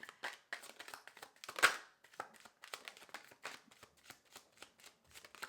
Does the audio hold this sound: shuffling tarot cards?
yes